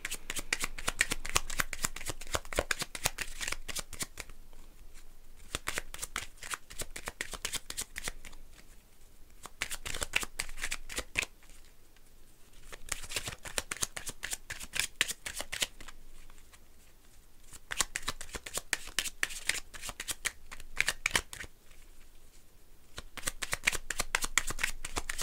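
Tarot cards being shuffled for a horoscope reading: rapid, crisp riffling and flicking in repeated bursts with brief pauses between them, close and fairly quiet, with no speech.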